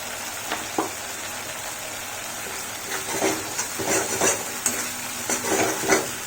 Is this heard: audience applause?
no